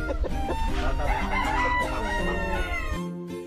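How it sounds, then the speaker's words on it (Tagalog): Free-range Black Australorp chickens on a farm crow loudly and cluck close by, a rooster's cock-a-doodle-doo rising over steady clucking for about three seconds before trailing off. "At ito naman nga pala yung kanilang mga manok dito na Black Australorp"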